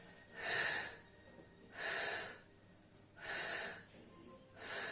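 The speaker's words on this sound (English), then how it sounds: "Breathing here goes like this." Four long, strong breaths demonstrated by a Pilates instructor during an intermediate mat exercise, each a loud airy rush lasting nearly a second, evenly spaced with quiet pauses between, close to the microphone with no talking.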